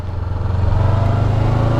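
A motorcycle engine pulls away in first gear as the clutch is let out, a low, steady throbbing note that swells slightly in loudness over a couple of seconds, close by with no talk.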